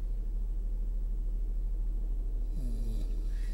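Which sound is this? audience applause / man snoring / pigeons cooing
man snoring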